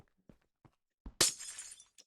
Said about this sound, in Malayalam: ഐസ് പൊട്ടിച്ചാൽ വെള്ളം വരുമോ? പൊട്ടിച്ചു നോക്കാം.